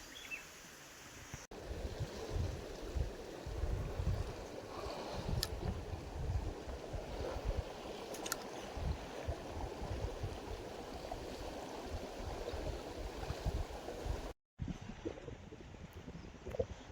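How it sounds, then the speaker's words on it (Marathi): Steady wash of sea waves breaking along a shore, with broad continuous surf noise and wind buffeting the microphone; a brief cut near the end, no talking. "खाडीवरून डायरेक्ट आपण समुद्र किनाऱ्यावरती आलोय"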